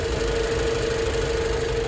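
A 2017 Jeep Cherokee engine idles steadily with a low, even hum and a faint constant whine, close by and alone.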